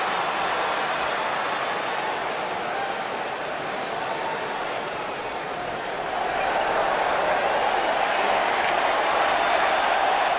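A sold-out arena crowd roars steadily throughout a WWE 2K19 wrestling match, a dense wash of cheering and applause that swells slightly toward the end, heard alone at moderate level.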